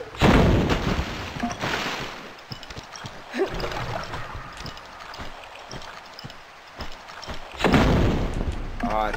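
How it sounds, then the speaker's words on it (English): Grenade launcher blasts in the remastered Tomb Raider II on the Maria Doria shipwreck level, with heavy booming thuds at the start and again near the end, among underwater game ambience. "Just pull out the grenade launcher out."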